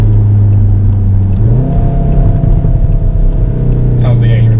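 A modified VW Golf R 7.5 accelerates hard from inside the cabin, its loud, steady engine drone rising in pitch partway through under a constant whirring roar.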